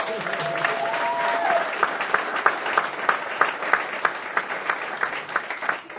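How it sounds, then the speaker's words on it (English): Audience applause fills a graduation ceremony hall, steady dense clapping with sharper individual claps standing out near the microphone, and a faint whistle early on. "Can we give him another round of applause?"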